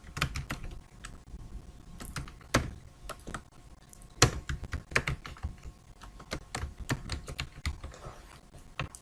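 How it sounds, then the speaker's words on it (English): Fingers typing on a computer keyboard, irregular bursts of sharp close clicks with short pauses and a few heavier keystrokes, no speech. "So type the resolution"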